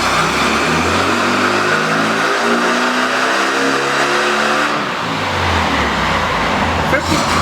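VW engine fitted with ratio rocker arms revving hard on a dyno, a loud, steady roar with rising and falling tones that dips briefly then climbs again, close and alone.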